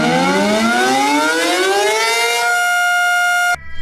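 A Super Banshee siren wails loudly, its pitch sweeping steadily upward before holding a sustained tone, then cutting off abruptly near the end.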